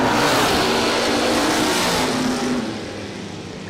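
A bracket-racing car at a drag strip, an Oldsmobile, roars loud and close with a sustained full-throttle engine drone that eases off slightly near the end.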